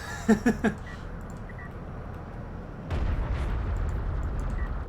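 Artillery barrage in a video game, with a few quick sharp reports early on, then a heavier rumbling roll of fire after a pause, loud and close.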